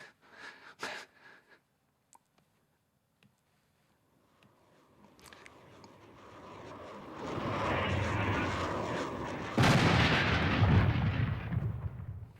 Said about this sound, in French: On entend le bang de retour du missile